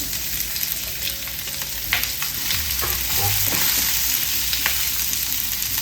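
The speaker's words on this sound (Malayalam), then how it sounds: "ഇനി ഇതിനകത്തോട്ട് ഒരു 3 സവാള അരിഞ്ഞത് അത് ഇട്ട് കൊടുക്കാം" Chopped onions and green chillies sizzle loudly in a hot pan, a close, continuous frying hiss broken by a few scrapes and clinks as the mixture is stirred, with no talking.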